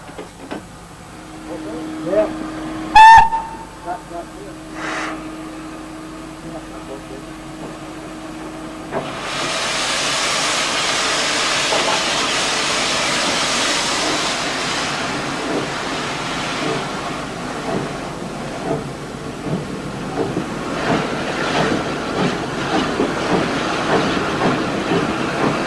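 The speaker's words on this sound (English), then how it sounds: "the engine will run light to Horsted Canes to collect its carriages" A steam locomotive running light on the Bluebell Railway in 1994. A few short blasts come first, then a loud, sustained hiss of escaping steam with rhythmic chuffing as it gets under way nearby.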